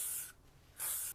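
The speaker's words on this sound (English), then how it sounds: "I'm just gonna like pick sections up and spray" Two short bursts of L'Oreal Elnett hairspray sprayed onto hair, each a close, loud aerosol hiss lasting about a third of a second, separated by a brief pause.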